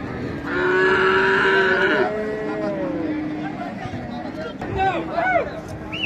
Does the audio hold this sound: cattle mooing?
yes